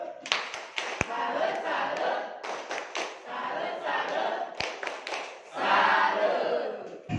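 A classroom audience at a school program workshop joins in a rhythmic clapping salute chant, loud group voices and sharp hand-claps bursting in repeated phrases with a few heavy thuds.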